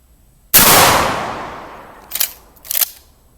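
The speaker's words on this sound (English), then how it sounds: "Shoot a 12 gauge. Especially slug and buck." A 12 gauge shotgun fires slug and buckshot into a leather target: one loud, close blast with a long decaying tail, followed by two quieter, shorter bursts.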